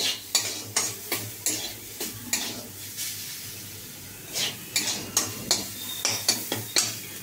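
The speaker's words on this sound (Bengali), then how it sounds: "একটু নাড়াচাড়া করছি" A utensil stirs food in a frying pan while a Bengali nest-shaped snack is prepared, giving a close run of scraping strokes with a light sizzle underneath and no talk.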